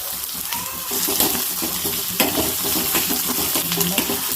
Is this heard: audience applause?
no